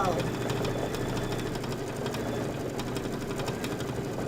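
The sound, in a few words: embroidery machine stitching quilting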